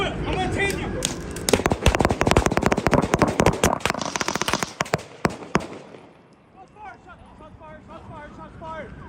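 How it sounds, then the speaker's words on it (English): A rapid volley of loud, close gunshots fired during a police traffic stop, sharp cracks in quick succession over several seconds amid shouting officers, then fading to voices talking. "Shots fired."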